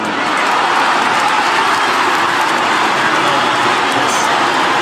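A crowd roars steadily at a fight event, a dense continuous wall of cheering and noise that stays loud for several seconds with no pauses.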